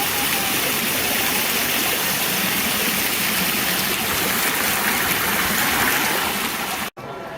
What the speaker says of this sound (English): all of the water features work now